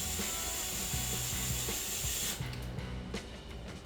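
Screws being driven into an RC car wing mount give a steady mechanical ratcheting, a close, continuous grinding click that runs for a few seconds and then eases into lighter, scattered clicks near the end.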